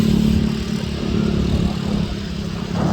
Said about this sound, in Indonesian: Kalau lumayan masih ramai, banyak motor.